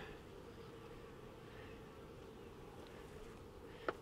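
Honey bees buzz steadily and close during an inspection of a queenless hive, the dense drone of the colony holding constant throughout with a brief sharp click near the end.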